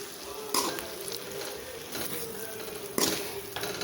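Shredded parotta being stirred in a frying pan, a steady close sizzle with scraping spatula strokes and a couple of sharper clacks against the pan.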